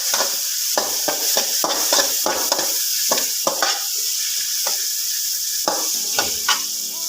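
Watermelon rind curry with turmeric and salt sizzles in a pan while being stirred, with a steady frying hiss broken by repeated scraping strokes of a spoon, close and clear with no talking.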